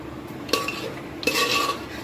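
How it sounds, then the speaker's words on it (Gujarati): A metal spoon clinks twice against a pot while stirring a corn and potato curry with onion-tomato masala and yam, two sharp scrapes about a second apart over a soft background hiss. "અને સરસ રીતે હલાવી લઈશું"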